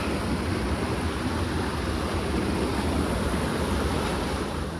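Icy cold mountain stream water near a campground rushes in a steady, dense, unbroken wash, loud and close throughout with no pauses or voices.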